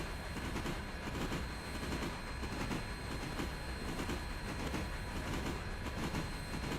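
Steady rolling train noise from the Railroader video game, a dense continuous rumble with faint rhythmic wheel clatter running throughout, no voices.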